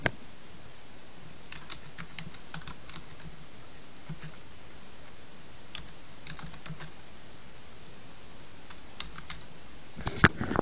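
Keys on a computer keyboard click in quiet, irregular bursts as a file name is typed, with short pauses between groups of strokes and a few sharper taps at the end.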